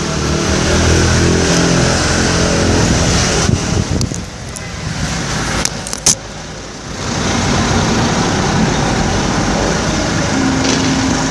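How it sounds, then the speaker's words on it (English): Cars pass close on a narrow street on the Amalfi Coast, a steady loud roar of traffic with wind buffeting the microphone that eases briefly in the middle before swelling again. "there's cars whizzing by, and the streets are very narrow"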